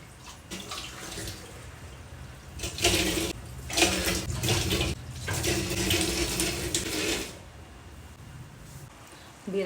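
Water from washing rice being drained off, a steady close splashing gush that swells and fades over several seconds.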